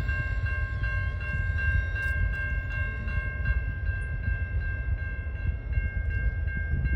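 CN autorack freight train rolling through Ecorse, Michigan, with a steady low rumble of wheels and cars, a high ringing tone from a nearby crossing or signal running throughout, and rhythmic clicking from the rails.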